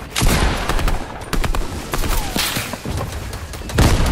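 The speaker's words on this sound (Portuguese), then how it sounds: "de onde tá vindo esse tiro?" Rapid bursts of video-game gunfire crack out repeatedly, loud and close, with several shots overlapping in quick, irregular volleys and no talk.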